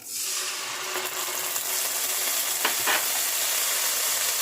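Ginger paste frying in hot oil with bay leaf and whole spices, a steady close sizzle with faint stirring clinks and a couple of brief sharper spatters partway through.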